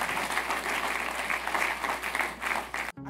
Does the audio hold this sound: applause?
yes